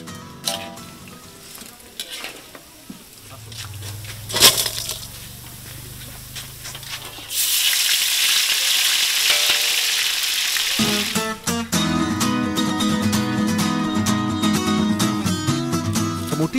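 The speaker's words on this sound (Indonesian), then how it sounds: "Selanjutnya, bumbu halus ditumis hingga matang." Ground spice paste sautéing in a pan for Indonesian skipjack tuna floss, a steady sizzle with stirring scrapes, louder and denser in the second half, with no voices.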